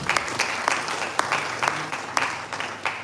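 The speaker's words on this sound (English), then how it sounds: "I think we deserve a round of applause for that" Applause from a conference audience at a school of environmental technology lecture, steady patter of many hands with sharper individual claps punctuating it, moderately loud and continuous throughout.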